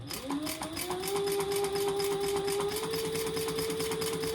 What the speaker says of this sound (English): So I'm just sewing around the outside of my overlay